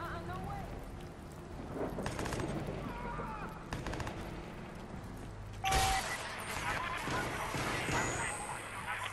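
Enemy gunfire in the video game Watch Dogs, with sharp bursts of shots around the two- and four-second marks and a louder, denser volley near six seconds, set against a steady game background.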